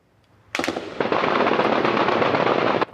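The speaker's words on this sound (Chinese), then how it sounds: "透早金门炮声就真大声" Combat vehicles fire live rounds toward the sea during a military drill on Kinmen: a sudden loud burst of dense, rapid cracking fire runs for about two seconds and then cuts off, with no talk.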